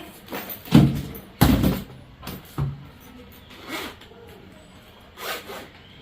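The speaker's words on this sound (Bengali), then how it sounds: "আমি এখন খুলছি ব্যাগের ভিতরে ব্যাগ" A bag is unzipped and opened in a few quick, close, loud zipper pulls with rustling between them, followed by softer handling sounds and brief quiet talk.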